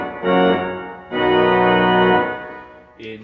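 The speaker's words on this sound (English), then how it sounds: "we have the luxury of 3 reeds on the grate, 16, 8 and 4 trombas, sound like this." Pipe-organ tromba reed stops at 16, 8 and 4 foot on the great of a synagogue organ sound in bright, brassy sustained chords, two separate held blasts followed by a short higher note, with no voices.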